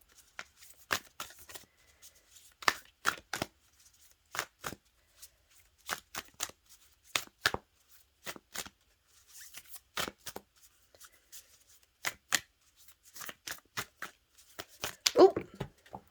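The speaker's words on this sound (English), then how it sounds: "Let me draw 2 cards I'm going to do from the Gateway of Light" Oracle cards from the Gateway of Light Activation Oracle deck are shuffled and drawn close up, with sharp irregular slaps and riffles separated by near-silent gaps, alongside intermittent quiet talking.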